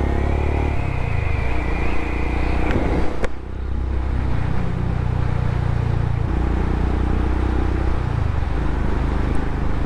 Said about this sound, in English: I can't help but laugh at that exhaust.